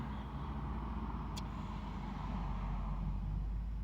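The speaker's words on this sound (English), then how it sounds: "somebody finally drove by" A car passes at a distance on a quiet street, a faint, low rumble that holds steady through the moment, with no speech.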